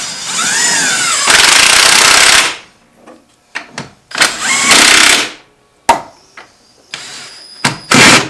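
A power tool bolts up an engine transmission mount, loud bursts of whirring and rattling rapping lasting a second or so each, then shorter hits and clicks separated by quiet gaps in a garage.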